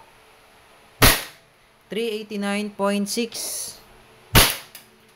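Two sharp, loud pops from a WE airsoft Glock 34 Gen 4 pistol ring out a few seconds apart, with someone speaking briefly between the shots.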